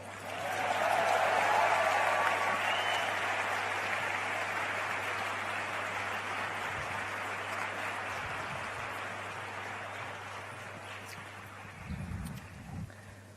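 Faint, sustained applause from a crowd at a government appointment-letter ceremony in Gandhinagar, a steady wash of clapping that slowly fades, with a low electrical hum underneath.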